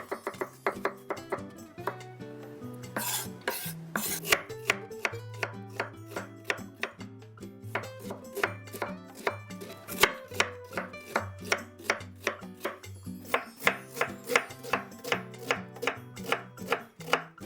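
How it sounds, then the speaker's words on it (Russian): Rapid rhythmic knife chops on a cutting board, garlic and onion being cut into medium pieces, over steady background music. "Средними кусочками режу чеснок и лук."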